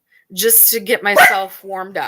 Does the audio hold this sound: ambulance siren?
no